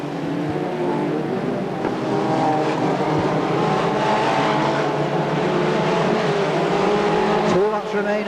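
F2 stock cars racing through the top turn at Crewe speedway, a loud, continuous engine roar that swells slightly as the pack passes close by.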